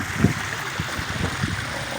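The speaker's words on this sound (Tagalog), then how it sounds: "yan yung ating ilog oh pinangungarente yan" A wide, deep, murky river flows with a steady, moderate rushing wash, with faint low bumps and splashes along the current.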